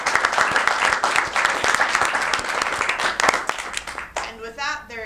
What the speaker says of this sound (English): I would like to have one more round of applause for our 10 remarkable students who joined us this summer